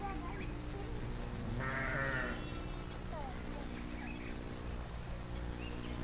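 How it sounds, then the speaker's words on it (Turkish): Sheep bleat a few times at a moderate distance, with one louder wavering call near the middle, over steady outdoor background noise. "Şu anda koyunların hava iyi olduğundan dolayı karınların doyulması için çimlere bırakılmış."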